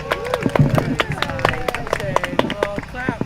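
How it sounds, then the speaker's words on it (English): A live audience at an informal poetry and spoken-word gathering claps for a poet, with sharp scattered claps, cheers and voices mixed together throughout. "Another round of applause for Darius."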